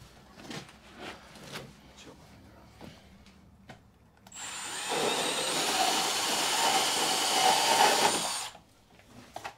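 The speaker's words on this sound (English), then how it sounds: "Bandsaw." A bandsaw cuts during electrical supply upgrade work at a football stadium, a loud, steady rushing buzz with a thin high whine lasting about four seconds, following quieter workshop clatter and knocks.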